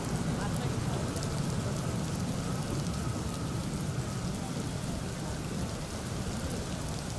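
Heavy, continuous monsoon rain pours steadily near the Khadakwasla dam in Pune, where floodwater is being released, making a dense, unbroken roar of rainfall that holds level throughout with no voices.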